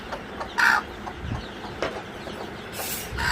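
Young chicks, just placed in a cage lined with paper and jute sacks on their first day, give soft, scattered peeps and clucks against quiet background rustling.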